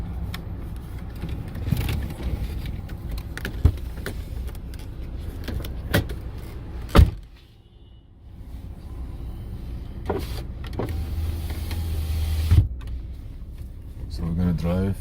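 Power window of a 2004 Chevrolet Trailblazer whirring up inside the car, a steady motor hum under nearby voices and cabin rustling, with a few sharp clicks and thumps.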